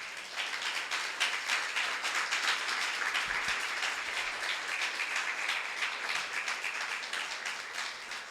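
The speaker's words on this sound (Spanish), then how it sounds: "Le damos un fuerte aplauso a Él entonces." A church congregation applauds in a continuous dense wash of clapping that holds steady for several seconds, fairly distant and even, with no talk over it.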